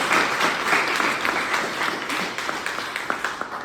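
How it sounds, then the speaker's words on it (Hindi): Audience applause fills the space as a dense, steady wash of many hands clapping, loud and continuous, slightly tapering near the end, with no talking over it. "ताली बजाओ,"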